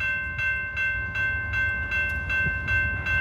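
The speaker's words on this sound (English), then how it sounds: "Another train coming." A Metra commuter train passing Elmhurst station, with a steady low rumble and rhythmic clatter recurring about every 0.4 seconds over a sustained high tonal whine, close and fairly loud throughout.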